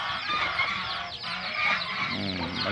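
A crowded farm flock of chickens clucks alongside ducks and geese, a steady busy chatter of overlapping clucks and squawks at moderate level, with no voices.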